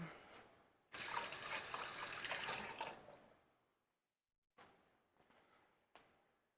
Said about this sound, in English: I'll wash my hands again, sorry.